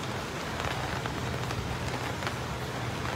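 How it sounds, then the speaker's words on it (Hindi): Heavy monsoon-style rain pours steadily in Gujarat, a dense, continuous hiss of drops hammering surfaces close by, with no voices over it. "बारिश ही बारिश है यहाँ गुजरात में।"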